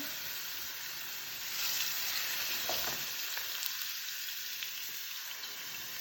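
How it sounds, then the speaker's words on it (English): Seasoned halibut pieces fry in a hot skillet, giving a steady, dense sizzle that swells briefly midway, with no one talking. "I'll take my seasoned halibut pieces, drop them in the skillet"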